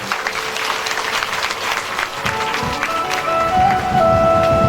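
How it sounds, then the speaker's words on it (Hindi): Audience applause welcomes a guest at a Shri Ram Katha religious discourse held at Karanpura ashram in Harda. It is loud, sustained clapping from a crowd, and a steady tone enters under it toward the end. "आप सब लोग ताली बजा करके इनका स्वागत करेंगे।"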